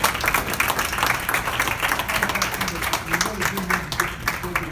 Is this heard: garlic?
no